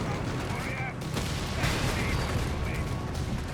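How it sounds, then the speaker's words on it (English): Dense, continuous battle noise in the video game Company of Heroes 3, with overlapping gunfire, tank fire and explosions rumbling throughout, a steady loud din with no clear pauses. "Panthers diving straight into a hornet's nest of gunfire there"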